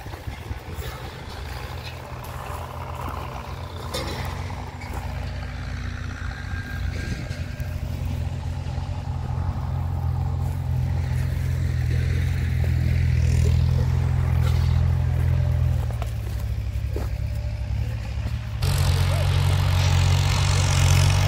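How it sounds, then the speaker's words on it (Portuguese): A tractor engine drones steadily while harrowing a hillside pasture, the low rumble growing louder and heavier as the machine works and nears, with no talk over it. "Olha aí, pessoal, o trator aí, ó."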